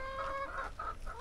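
Chickens cluck from a backyard coop set among grape vines, a short run of repeated clucks with a steady bird chatter underneath, fairly close and without any talk.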